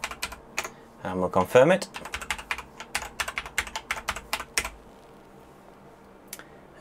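Someone types an admin password on a computer keyboard during NAS setup: a close, quick run of crisp key clicks with a brief burst of rapid strokes, someone speaking briefly, then a pause and one last tap.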